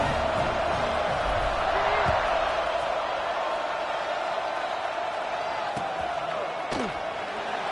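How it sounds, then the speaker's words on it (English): A football stadium crowd buzzes after a score, a loud continuous roar and murmur of many voices with scattered whoops and claps, steady throughout. "this crowd is buzzing after that last score"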